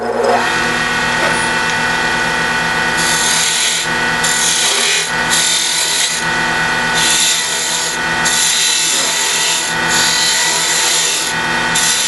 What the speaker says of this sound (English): For tight quarters like this here, where I have to make tight arcs, I use about a 1/4 inch spindle gouge.